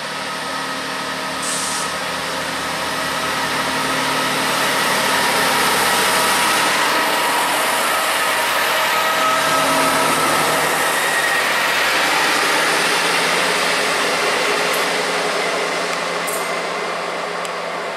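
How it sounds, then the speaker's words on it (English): A Northern class 158 diesel multiple unit pulls out of Brampton station on a Newcastle to Carlisle service, its engine drone swelling steadily and holding loud and close for most of the stretch before easing slightly. "Departing is 158-849 going from Newcastle to Carlisle."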